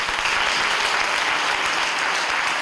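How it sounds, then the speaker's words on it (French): A church congregation claps and applauds together in praise during a service, dense and steady handclapping filling the whole stretch with no speech over it. "On acclame le Seigneur."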